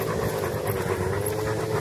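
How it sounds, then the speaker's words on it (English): A dog pants heavily and steadily, close by and fairly loud, with a continuous rhythmic breathy rasp and no talk. "That sound, that heavy breathing is your dog."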